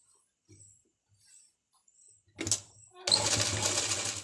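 Sewing machine stitching fabric for a circular palazzo, starting after a few soft handling noises with a brief whir, then running continuously and loudly up close.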